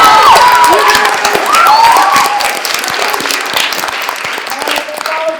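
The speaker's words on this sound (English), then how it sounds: "So let's give him a round of applause." A live show audience applauds and cheers continuously, dense clapping mixed with crowd shouts and whoops, loud and sustained throughout with voices mixed into the noise.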